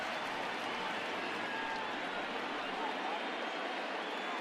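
A baseball stadium crowd of more than 38,000 stands and cheers in one continuous, broad roar that stays loud and steady throughout, with no single voice standing out.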